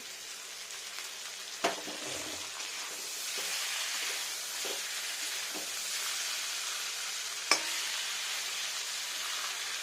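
Onions frying in leftover fish-frying oil for a rohu fish curry, a steady broad sizzle and hiss close by, with a couple of sharp clinks from a utensil against the pan.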